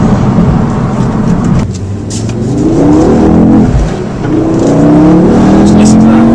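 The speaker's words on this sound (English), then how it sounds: "really characterful engine, and it just revs and revs and revs." A Renault Clio Williams engine revs hard and climbs through the gears, the pitch rising in repeated sweeps with a brief dip between pulls, loud and close throughout.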